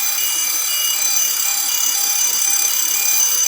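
A steady, high electronic alarm tone from a fire alarm control panel during testing sounds continuously and loud, with a faint hiss underneath and no break in the signal.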